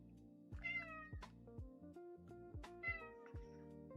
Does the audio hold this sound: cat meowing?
yes